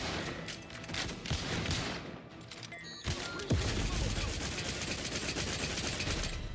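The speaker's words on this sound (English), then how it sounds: "Oh, this is an automatic gun." Automatic gunfire from a weapon in The Outer Worlds 2 video game, dense sustained bursts with a short pause near the middle, loud and continuous across the clip alongside game sounds.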